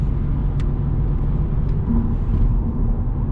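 A car lapping the Nürburgring Nordschleife, heard from inside as a steady low engine and road rumble with a constant drone, loud and continuous, with no talking.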